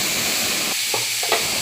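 Boiled papaya pieces stirred in hot oil in a pan for a Bengali papaya shukto: steady close sizzle and hiss with a few soft scraping stirs of a spatula, no voices.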